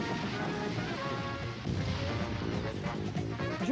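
Fireworks effects in a TV commercial for a New Orleans-style New Year's celebration: dense, continuous crackling and booming bursts with overlapping whistling streaks, loud throughout.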